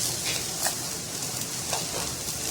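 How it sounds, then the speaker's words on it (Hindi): Chopped vegetables frying in a pan for street-style chicken macaroni, a steady close sizzle with soft crackling spits throughout, no voices. "जी तो देखिए ये फ्राई हो रही है।"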